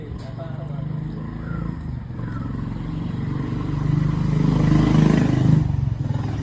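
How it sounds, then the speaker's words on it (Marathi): A Mahindra tractor engine runs with a continuous low rumble at a vehicle workshop, swelling slightly toward the end while people talk over it. "ते बसलेले ट्रॅक्टर चालवायला"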